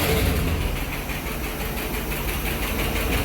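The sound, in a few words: 1967 Lincoln engine idling with noisy lifters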